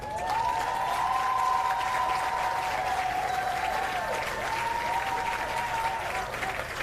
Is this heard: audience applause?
yes